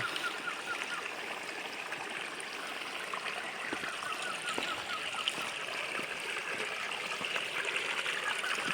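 Water of the Khardu stream flows in a steady, broad rush, continuous and even throughout with no voices.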